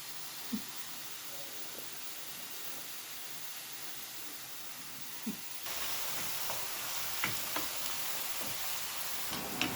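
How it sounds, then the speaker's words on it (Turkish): Potato pieces fry in hot oil for stuffed kapya peppers, giving a steady soft sizzle and hiss that grows slightly louder partway through, with scattered small crackles and faint clicks, close and continuous without speech. "Evet patateslerimiz kızardı. Patateslerimi alayım yağdan."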